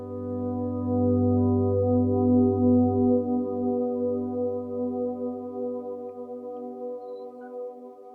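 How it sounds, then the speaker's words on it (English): Sustained electric guitar swell sounding only the root and third of a G barre chord, played with the thumb and muted strings, a smooth harmonic tone that blooms up and holds steadily before slowly easing off, with no talking. "I'm gonna play root and third"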